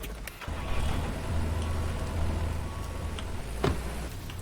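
Tractor engine in the farming game Farmer's Dynasty, a steady low idling drone that holds throughout with a brief louder thump near the end.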